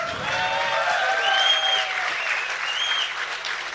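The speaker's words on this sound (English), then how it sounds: "If you would like Grubby to take this series, give a cheer for Grubby!" A large esports crowd at DreamHack roars and cheers for the Protoss player Grubby, a sustained, loud wash of applause, whistles and shouts that swells and holds steady throughout.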